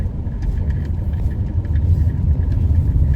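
A car drives along a rural road lined with trees in Silang, its low engine rumble and road noise steady and close throughout, with no voices.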